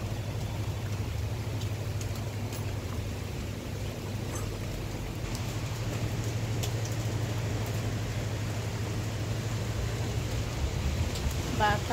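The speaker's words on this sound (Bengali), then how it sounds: "এখন কী পরিমাণে বৃষ্টি হইতেছে।" Heavy rain pours steadily onto soaked roads during a cyclone, with wind picking up, making a continuous, dense hiss with a low rumbling undertone that stays even throughout.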